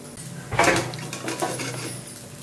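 Banana slices frying in a pan are turned over, with a few metallic scrapes and clinks of a utensil against the pan, loudest early on, then softer scraping over a low background hum.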